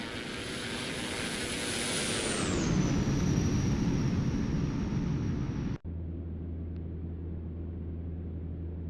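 A Cessna 208 in a flight simulator making a low flyby, a loud steady propeller-engine drone that rises and then drops in pitch as it passes, before cutting abruptly to a quieter cabin hum.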